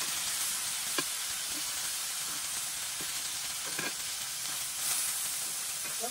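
Onions caramelizing in a steak pan give off a steady, soft sizzle and hiss, with a few faint clicks of stirring scattered through.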